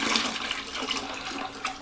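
Chocolate strawberry syrup is poured into port wine during flavoring, a close, continuous liquid gurgle and splash with small bubbling bursts throughout, no talking.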